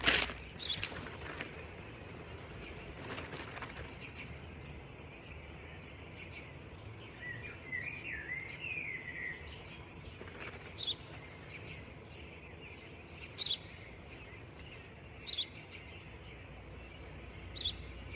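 Scattered short bird chirps and a brief warbling phrase sound over steady background noise, with a few louder bursts near the start; no one speaks.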